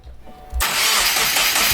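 A 2015 Subaru WRX engine, freshly fitted with a front-mount intercooler, cranks briefly and catches, then settles into a loud, steady running roar close by.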